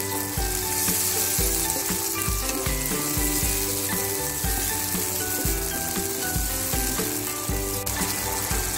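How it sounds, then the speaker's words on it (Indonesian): Spice paste with kencur and shrimp paste sizzles loudly in a pan as a little water is poured in, a dense, steady frying hiss running throughout with faint stirring and no voices. "Sekarang kita kasih air untuk melarutkan bumbu ini ya."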